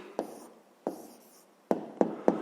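A pen scratches an answer onto paper for a fifth-grade math exercise, making five short strokes in an uneven rhythm, close and quiet, with no talk.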